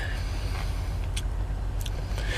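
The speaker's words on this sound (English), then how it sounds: "This is a truck stop. Big truck stop in Yorkton." Vehicles idling and rumbling at a big truck stop in Yorkton, a steady low engine drone with a couple of brief hissing bursts like air brakes.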